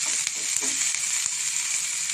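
Onions frying in a pan for a sandwich filling give off a steady, close crackling sizzle with a few soft stirring clicks, unbroken and without voices.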